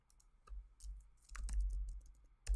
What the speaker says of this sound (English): while Mike is typing that